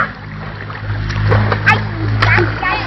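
A child swimming splashes water in repeated bursts close by, with an adult speaking over the sloshing.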